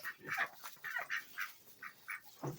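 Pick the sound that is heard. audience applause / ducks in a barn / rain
ducks in a barn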